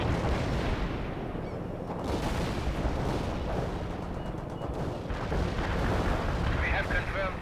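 Artillery strike in the strategy game World in Conflict, a dense continuous roar of distant shelling and rumbling blasts that runs steadily throughout, with a voice talking over the din.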